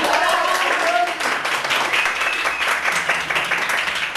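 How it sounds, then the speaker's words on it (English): Studio audience applauding at the opening of a TV talk show, dense, loud clapping throughout with a few voices and whistles rising above it. "This is my show, please, applause."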